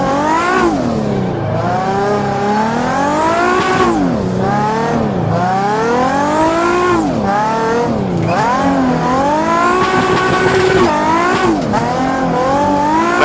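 A car drifting with clutch kicks and handbrake pulls, engine revving hard in repeated rising and falling sweeps with tires squealing throughout, loud and continuous over about thirteen seconds with no talk.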